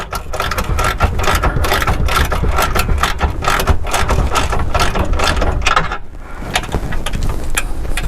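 A ratchet wrench tightens a carriage bolt while a Bronco Slipstream is being installed, producing loud, close, rapid clicking that runs almost continuously with a brief pause near the end.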